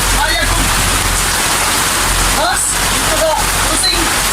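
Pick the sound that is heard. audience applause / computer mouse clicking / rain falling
rain falling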